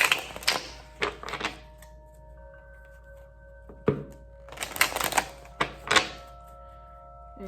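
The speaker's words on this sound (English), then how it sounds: "I'm gonna shuffle 2 more times." A deck of tarot-style cards being shuffled by hand, with several bursts of riffling and snapping card noise separated by quiet pauses, close and crisp.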